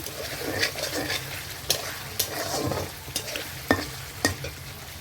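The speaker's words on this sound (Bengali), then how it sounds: "এবার আমি দিয়ে দেব মোটা মোটা করে কেটে রাখা পেঁয়াজগুলি। একটু নাড়িয়েই দিয়ে দেব ভেন্ডিগুলো।" Thickly cut onions and okra fry in a pan for a bhindi dish, a steady sizzle broken by repeated scraping strokes of a spoon stirring, close and fairly loud with no talk.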